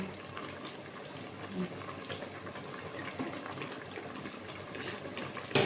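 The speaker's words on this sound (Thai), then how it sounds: "น้ำเดือดแล้ว" Steady bubbling and churning liquid with a few louder pops, like water at a rolling boil in a pot for mushroom curry, with faint kitchen clatter in the background.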